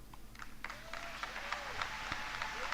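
An audience at a political speech breaks into applause, a steady wash of clapping heard fairly distant and faint in a large hall.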